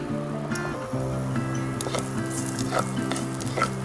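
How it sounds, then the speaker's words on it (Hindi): Chopped green chillies sizzling in a pan of hot oil, a steady close frying hiss with scattered pops and stirring scrapes, over a low hum of background music. "इसी सेम पैन में अब मैं फ्राई कर लूँगा कटा हुआ मिर्ची"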